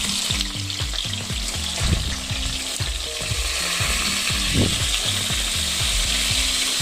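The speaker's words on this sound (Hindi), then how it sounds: "प्याज को मैं फ्राई करूँगी पहले।" Onions sizzle and fry steadily in a pan used for Kashmiri chicken kebabs, a constant hiss with occasional stirring scrapes and clanks throughout.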